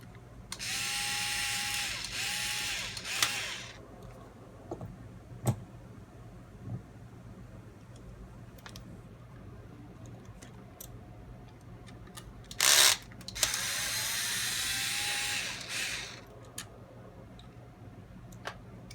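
Small screws being driven out of an RC 4x4 crawler chassis with a power driver while fitting shock towers, giving two long whirring bursts near the start and end with scattered faint ticks and clicks between.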